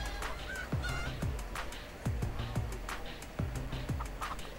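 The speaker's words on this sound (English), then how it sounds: "After I watch one more chicken get owned." Chicken sounds in the video game Minecraft Story Mode, heard as a run of repeated short, honking squawks in a steady rhythm over a noisy background.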